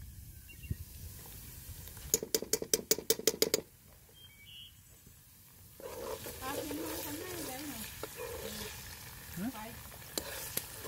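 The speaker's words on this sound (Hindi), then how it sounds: "ऑयल डाल लिया है, उसमें अनियन डालनी है" Onions frying in oil in a home kitchen pan, a soft continuous sizzle with scraping stirs that follows a quick burst of sharp clicks, fairly quiet and close.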